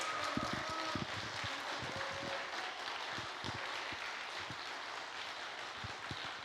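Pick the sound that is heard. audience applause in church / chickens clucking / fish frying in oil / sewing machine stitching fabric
audience applause in church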